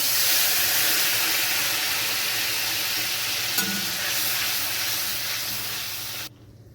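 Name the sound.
stirring spice paste with a spatula in a frying pan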